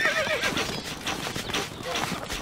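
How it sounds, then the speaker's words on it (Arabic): A horse in the game Stronghold Crusader whinnies and gallops with quick clip-clop hoofbeats while a voice speaks over it, all fairly close and busy for a couple of seconds. "الحصان سريع."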